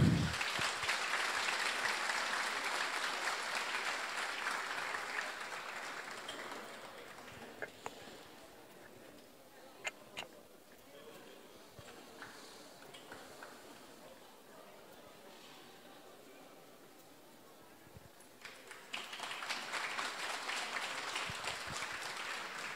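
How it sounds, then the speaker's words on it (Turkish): Enthusiastic crowd applause at the opening of an international photography festival before a ribbon cutting, loud at first, fading to scattered claps and chatter, then swelling again near the end. "Efendim, kurdele kesilmeden coşkulu, güçlü bir alkış alalım mı?"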